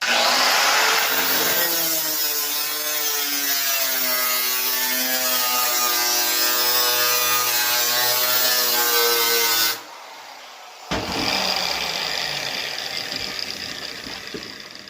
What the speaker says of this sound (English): I'm going to start cutting these out with my grinder